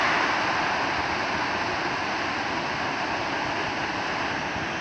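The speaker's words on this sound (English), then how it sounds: "And you can hear in the background the sounds of falling foss." Continuous roaring water from the Falling Foss waterfall fills the background, an even, unbroken rush of cascading water at moderate distance.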